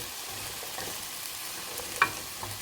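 Onions fry in a pot as the base for an Irish beef stew, giving a soft, continuous sizzle with a small clink or stir about two-thirds through and no one talking.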